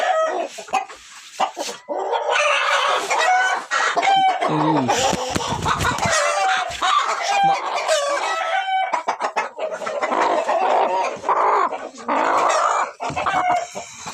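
A hen clucks loudly and insistently close by, with other chickens and a crowing rooster in a busy yard and a dog barking now and then.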